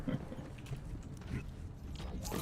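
A door in the video game Borderlands 3 is unlocked with a key and swung open, giving a steady mechanical creaking and grinding that runs for a couple of seconds under a busy game soundscape.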